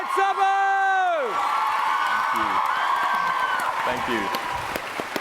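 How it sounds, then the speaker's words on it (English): A large convention crowd at a TwitchCon Amsterdam fan panel erupts in loud cheering, whoops and applause, with shrill screams early on and a sustained roar underneath as a voice briefly speaks. "give an almighty round of applause as well for Jack, Rambo, Nikki, Tom, Wilbur"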